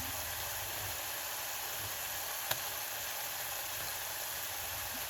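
Ginger garlic paste and turmeric sizzle steadily in a pan with fried onions and green chillies for a mutton gravy curry, a constant close frying hiss with a single faint click midway.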